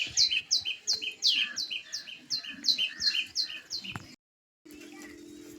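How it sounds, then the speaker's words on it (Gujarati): A parrot drinking water on a summer day gives about a dozen quick, bright chirps in an even rhythm, close by. The chirps stop abruptly, leaving a faint low hum. "જો આ પોપટ મસ્ત મજાના કેવું પાણી પીએ"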